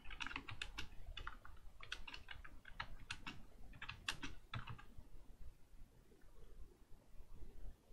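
Keys tapping on a computer keyboard in quick irregular bursts with short pauses, close and clear against faint background noise, while a translation is typed.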